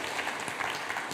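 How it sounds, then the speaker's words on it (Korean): Steady clapping from a church congregation after a baptism, a dense continuous patter of many hands at moderate volume, with no voices standing out. "우리 다시 한번 박수 부탁합니다."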